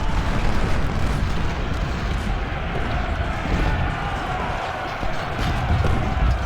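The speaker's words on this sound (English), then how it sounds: "Wow, that canister fire" Canister artillery fire in Ultimate General: Civil War, a dense, continuous roar of cannon blasts and battle rumble during a Civil War battle at Winchester, loud and sustained throughout.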